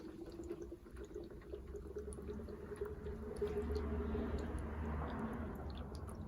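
Coolant gurgling and trickling into the cooling system of a Peugeot Speedfight 4 scooter, a faint, steady bubbling pour heard close up without talk.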